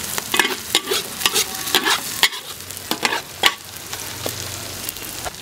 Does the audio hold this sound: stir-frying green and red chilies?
yes